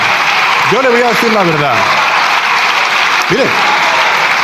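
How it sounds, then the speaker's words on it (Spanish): Deputies applaud in a parliamentary chamber, a steady wash of clapping that fills the whole stretch while someone speaks over it and a second voice cuts in briefly later. "Si hasta incluso están aplaudiendo diputados y diputadas de su grupo parlamentario"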